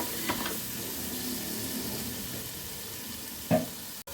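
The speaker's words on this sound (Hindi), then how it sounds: "और इसमें हम शामिल करेंगे टमाटर की प्यूरी जो कि 1 कप है। इसे अच्छे से हम भूनेंगे।" Tomato puree fries in a pan for butter chicken karahi, a soft, steady sizzle kept at low level, with a brief knock or stir partway through and no talking.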